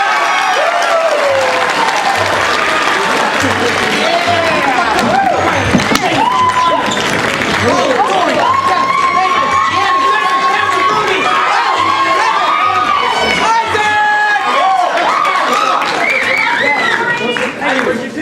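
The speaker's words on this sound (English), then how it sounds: "please give a warm round of applause to our troupe for this show, the Hysterical Artists!" An improv comedy show audience claps and cheers for the troupe, loud continuous applause with shouts and whoops, voices and chatter running through it for the full length.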